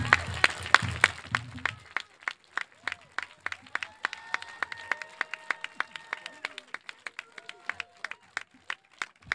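Audience applause at a 2021 commencement ceremony starts as a brief dense burst, then thins to sparse, rhythmic hand claps that continue steadily and close by.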